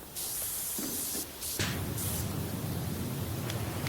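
Pressure washer spray in the video game Powerwash Simulator: a steady broadband hiss starting and stopping in short bursts, then running continuously and loud, with no talking.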